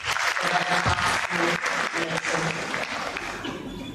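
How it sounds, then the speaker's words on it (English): An audience at a training-day lecture applauds a medical doctor, dense clapping close and lively that gradually thins out over a few seconds. "Shall we once again give the medical doctor and round of applause for that"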